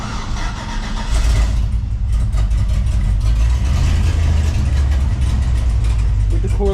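Ford OBS truck with a Dakota dash wired in and not yet tuned, its engine cranking with a ratcheting starter before catching and settling into a loud, steady idle close by.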